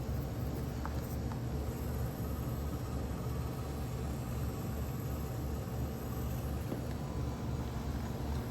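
RC rock crawler on Extreme TRX plates crawling slowly over obstacles, a steady low motor hum and drivetrain whine running continuously at an even level with no talk.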